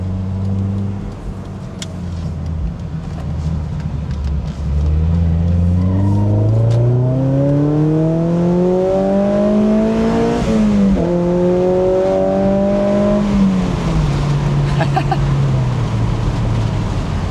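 A Mazda NC Miata engine revs up and down through the gears, its tone climbing and falling in smooth sweeps as heel-toe rev matching blips the throttle on downshifts, loud and close from the cabin with no talking.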